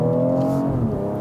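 The N55 engine in a 2018 BMW X3 M40i revs up close and loud, a steady, rich drone with the pitch swelling and settling over a brief stretch.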